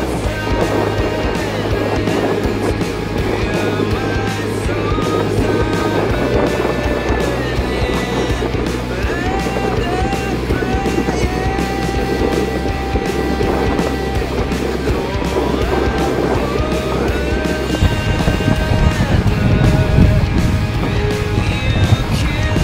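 Metre-high waves on the stormy Danube slap and rush against a small boat, a loud, constant wash of water and hull noise under a steady engine-like drone, with no speech.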